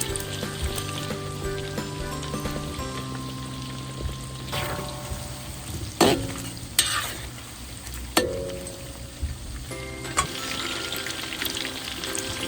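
Chicken wings frying in a pan, a soft continuous sizzle with clinks and scrapes from stirring or turning, and a few sharper knocks in the middle, close by and without talk.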